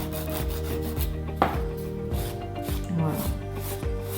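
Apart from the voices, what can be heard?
nail file filing off gel nail polish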